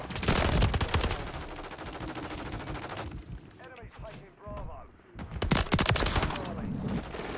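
Rapid automatic fire from an MCW rifle in Modern Warfare 3, loud and close in dense bursts at the start and again near the end, with a quieter stretch of game sounds between.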